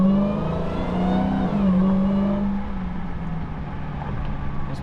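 Dodge Hellcat Redeye accelerating hard, a loud engine roar topped by a high supercharger whine that rises in pitch, then eases off as the car lifts, heard close from inside.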